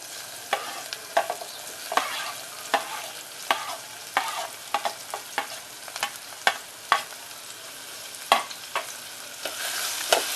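Onion and tomato fry in a pan over cumin and asafoetida for a Maharashtrian vatana rassa bhaji, a steady soft sizzle punctuated by frequent sharp scraping stirs every second or so, close and with no talking.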